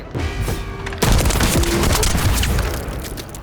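Weapons fire in The First Descendant, played on PS5, pounds out loud and close: heavy rapid bursts with booming impacts fill the whole stretch, growing denser after the first second, with no voices over it.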